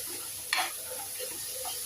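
Fish head and moong dal frying on a low flame, with a soft steady sizzle and one brief scraping stir of a spatula in the pan.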